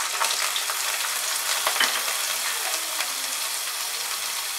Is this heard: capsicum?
yes